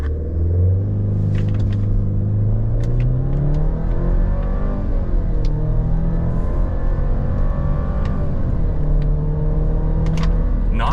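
A 2026 Chevy Colorado TrailBoss turbo mid-size pickup revs from a brake stand and then accelerates hard from 0 to 60, engine tone rising and falling through gear shifts, loud and close with a deep rumble throughout.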